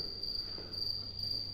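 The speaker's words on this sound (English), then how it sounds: "And if you're wondering what that noise is, crickets." Crickets chirping at night outside a resort lobby in Calas de Mallorca, a steady high continuous trill, fairly faint, with no voices over it.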